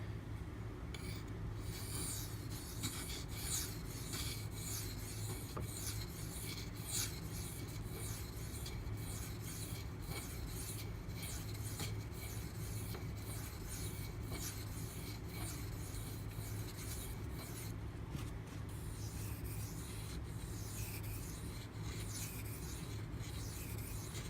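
Knife blade, a Spyderco Native 5 in Maxamet steel, drawn across a 2500-grit Gritomatic silicon carbide stone, giving a steady, continuous close scraping rasp with no talk.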